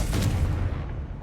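A Confringo spell blast from Hogwarts Legacy: a loud, booming burst with a rumbling low tail that fades over about a second, heard alone.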